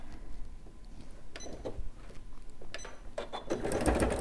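A sewing machine stitches a quilt-as-you-go quilt, running a short reverse then forward in a close mechanical whirr with intermittent clicks, building louder toward the end, no voices.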